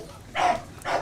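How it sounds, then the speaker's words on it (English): A neighbor's dog barking nearby, two short, sharp barks with a brief gap between them, heard through a quiet room with no talk. "Is that a real dog?"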